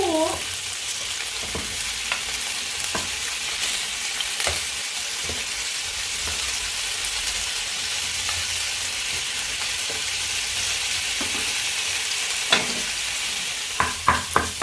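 Shrimp stir-fried in a hot pan for pad thai, a steady loud sizzle running throughout with occasional scraping spatula strokes and a few sharp clinks near the end.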